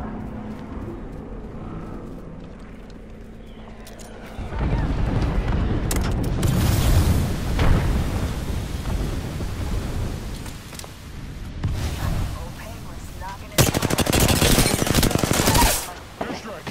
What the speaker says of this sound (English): Calling the airstrike.